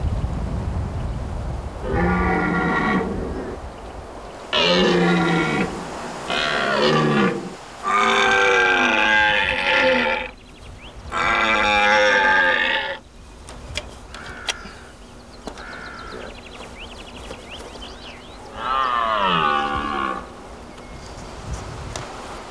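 Red deer stags bellow in the Vosges mountains, giving a series of long, deep, groaning roars in separate bouts of a few seconds each, heard from a distance over quiet outdoor background.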